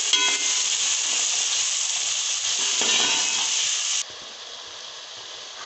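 Ginger-garlic paste sizzles and fries with onions in a pan for a chicken and vegetable macaroni dish, a loud, close, continuous hiss that eases slightly toward the end, with no speech.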